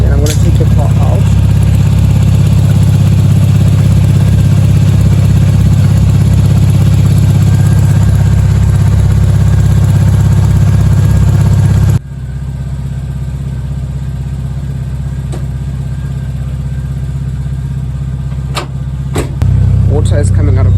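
A VW Polo Playa engine runs steadily with a loud, continuous low drone, then drops to a quieter idle partway through, with some clicks near the end.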